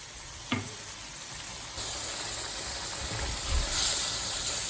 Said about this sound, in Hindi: लो आंच पे इसका ऑयल सेपरेट होने तक मैं भूनती रहूँगी।